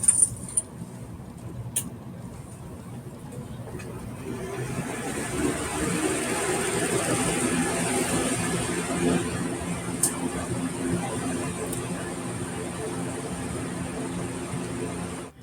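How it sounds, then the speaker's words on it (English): Electric fan switched on to blow air onto a small wind lift STEM build loaded with pennies, giving a steady low whirring hum with a soft airy wash that runs continuously at moderate level, with no talking. "we're going to turn on the fan"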